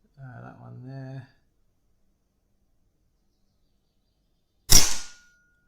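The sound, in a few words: Kral Arms Puncher Jumbo air rifle shooting a pellet at a target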